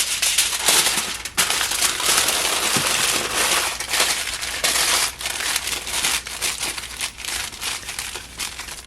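Aluminium foil is wrapped around a frozen burrito, a loud close-up crinkling and crumpling that continues steadily with short pauses and sharp rustles.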